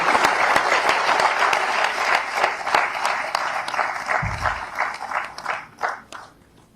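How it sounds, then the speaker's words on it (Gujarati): An audience at a climate change program event at PDEU, Gandhinagar claps loudly for the Chief Minister, with dense rhythmic clapping that gradually thins out and fades toward the end. "આવો જોરદાર તાળીઓ સાથે આમંત્રિત કરીએ આપના વક્તવ્યમાં"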